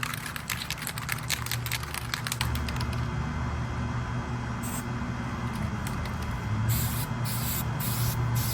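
Aerosol spray paint hisses in short bursts as a first light coat goes onto a vintage Cooper SK2000 hockey goalie helmet, with clicking taps early on and a steady background hum.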